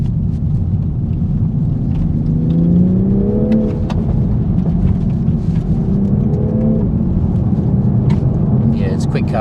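A 2019 Toyota GR Supra accelerating on the road, its engine note climbing steadily and staying loud and close, with a continuous rumble of road and cabin noise and some speech in the cabin.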